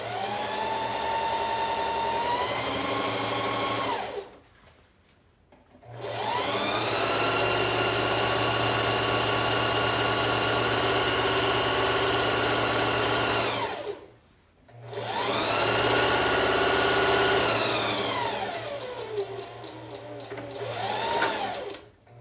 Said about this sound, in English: So we'll sew this with a 1/8 inch seam allowance. And do back stitch.